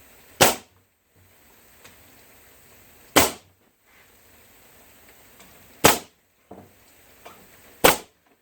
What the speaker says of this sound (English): take a nail gun, I'm just going to tack it in place.